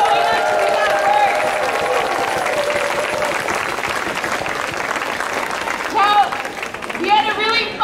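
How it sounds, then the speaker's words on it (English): Sustained crowd applause at an outdoor rally for the Grassy Narrows River Run in Toronto, steady clapping throughout with a voice speaking over it and a few louder cheers near the end. "So give yourselves a big round of applause for showing up to do that work."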